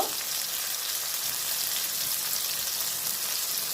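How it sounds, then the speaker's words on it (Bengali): Tomato and spices fry in oil in a pan, giving a steady, close hiss of sizzling that runs unbroken from start to end with no voices. "এটাকে একটু কষিয়ে নেব এবার লবণ দিয়ে দেব"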